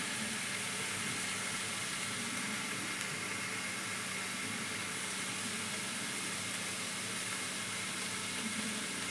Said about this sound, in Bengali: বাঁধাকপি দেখুন ভাজি ভালো করে।